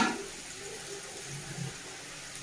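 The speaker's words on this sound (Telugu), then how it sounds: "ఓన్లీ వంకాయలు ఆయిల్లో ఫ్రై చేస్తున్నాను" White brinjals frying in oil give a soft, steady hiss and gentle bubbling, fairly faint and even, with a slight bump at the start and end.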